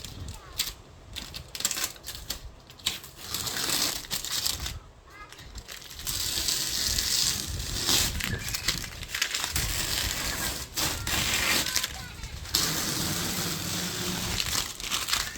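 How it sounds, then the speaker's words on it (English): Masking tape is peeled off a freshly resprayed satin black Quintrex Dory 420 boat, a continuous rough crinkling and tearing rasp with brief pauses, close and fairly loud. "Let's take this tape off."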